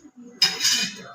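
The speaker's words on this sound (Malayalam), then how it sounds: "ഒരു കുക്കറിനകത്തൊരു പാത്രം വെക്കുവാണ്." A metal pot set down inside a pressure cooker while preparing a cake, giving a sudden clattering metallic clink followed by a brief ringing scrape, close and fairly loud.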